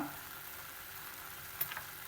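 Mushrooms for a curry fry in a pan and are stirred for a few minutes. A faint, steady sizzle runs throughout, with a brief clatter of stirring near the end.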